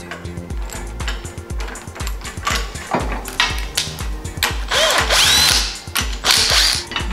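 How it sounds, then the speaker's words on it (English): Metal clamp block fitted onto tubing in a manual tube bender, heard as a close series of clicking, ratcheting and clanking metal contacts with scraping, irregular and fairly loud, with no talking. "We can take a second clamp block and install it on the tubing."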